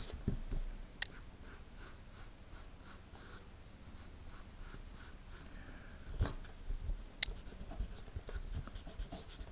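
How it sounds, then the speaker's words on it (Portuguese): Pencil lines being erased on paper during a perspective drawing lesson, a close, steady scratchy rubbing in short repeated strokes, alone without talk. "Estou apagando aqui a linha do horizonte"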